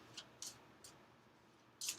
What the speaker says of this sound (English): I'm shuffling the Zodiac Oracle deck right now